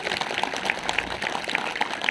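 An audience at a Veer Narayan Singh martyrdom day gathering in Kotmi claps to welcome a guest at a speech, a steady wash of crowd applause with scattered sharper claps throughout the short burst.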